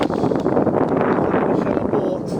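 Strong wind blowing at night, a loud continuous rumbling roar buffeting the microphone with gusty swells and no pauses.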